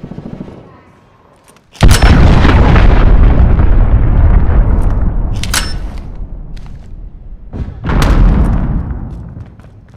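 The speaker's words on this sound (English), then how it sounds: "Allied cruise missile launched." Cruise missile strikes in Call of Duty Modern Warfare land as heavy booming explosions, a huge blast followed by a long rumbling roar, then further loud impacts and another big detonation with crackling gunfire mixed in.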